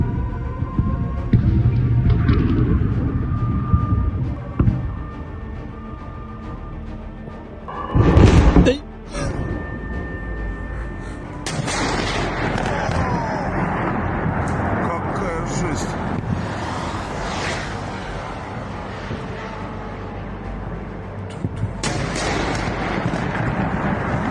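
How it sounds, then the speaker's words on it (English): Russian air defense fire and HIMARS rocket strikes: rumbling, roaring blasts and a sharp heavy boom, with a dense wash of distant gunfire and explosions rolling on and off over a steady background noise. "what you hear right now are the sounds of Russian air defense shooting down rockets."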